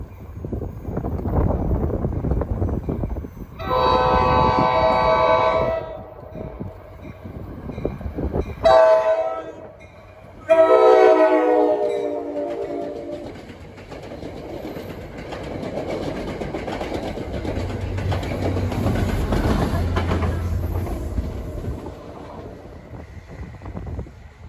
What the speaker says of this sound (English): We got a train bound for Hoboken approaching.